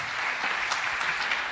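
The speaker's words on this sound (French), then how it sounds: "sous vos applaudissements" Sustained applause from a crowd, steady clapping throughout with no pauses.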